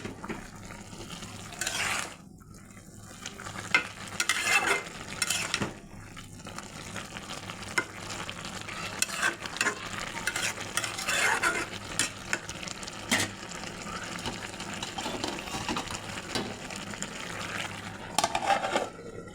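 Curry gravy bubbles and reduces over high heat in a village kitchen, with a continuous sizzle and frequent scraping and clacking stirring strokes at close range.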